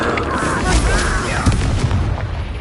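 A spell is cast in the video game Hogwarts Legacy amid dense, booming magical blasts that rumble loudly and continuously through the whole moment, with no clear pause.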